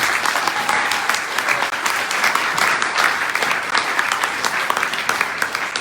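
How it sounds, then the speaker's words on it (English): Warm audience applause at an evening rainforest benefit event in a museum, a dense, steady wash of many hands clapping continuously and fairly loud, with no pause. "Give her a warm applause."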